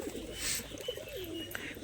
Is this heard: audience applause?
no